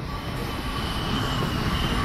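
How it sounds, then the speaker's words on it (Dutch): An NS DDZ double-deck intercity train at Zutphen station in Train Simulator 2022, a steady close rumble of wheels on track with a faint high squeal running above it. "een trein die gebruik maakt van het hier nog bestaande wissel naar station Zutphen, spoor 3A."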